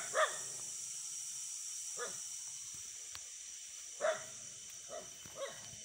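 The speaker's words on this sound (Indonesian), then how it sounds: "Anjingnya gonggongnya ngagetin baik." A dog barks outdoors at night in scattered single barks, some fairly sharp and others more distant, over a constant windy hiss.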